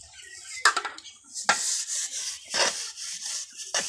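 Scrubbing a cooking pot clean by hand, with several short rasping scrapes and metallic rubs in uneven strokes, close and fairly loud, with no talking.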